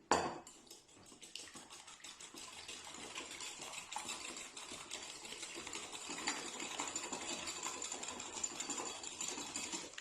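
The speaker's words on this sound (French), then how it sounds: "on va casser les œufs dans le sucre. Voilà, on va mélanger." Eggs are mixed into sugar in a bowl for a rhubarb tart, producing a quiet, rapid and steady run of whisking clicks against the bowl with no talk.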